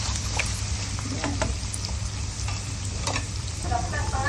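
Carrots and potatoes frying in a pan, a steady bright sizzle with scattered pops and crackles and the occasional scrape of stirring, close and continuous.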